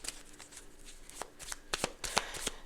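Tarot cards are shuffled close up in quick, papery riffles and slaps, crisp bursts that come faster and louder toward the end, with no talking.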